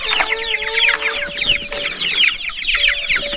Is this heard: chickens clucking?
yes